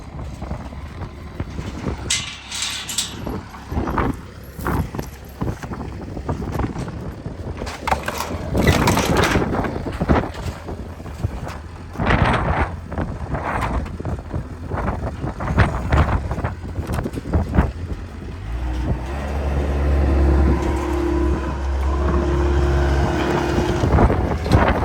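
Strong wind blowing outdoors, heavy gusts roaring and thumping against the microphone for a long stretch, with scattered clatters and a deeper sustained rumble building near the end.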